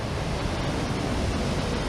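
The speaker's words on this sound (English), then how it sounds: "you can see the torrent of water" A torrent of water rushes through river floodgates and barriers on a December walk, a loud, steady, broadband roar that stays constant and dense throughout with no voices.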